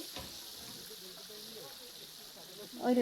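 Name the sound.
chicken pieces frying in oil for biryani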